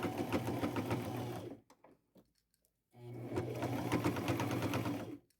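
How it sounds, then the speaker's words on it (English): A sewing machine runs a medium zigzag stitch on denim in two bursts of rapid, even clatter, each about two seconds long, with a short quiet pause between them. "I'm going to use a medium size zigzag stitch."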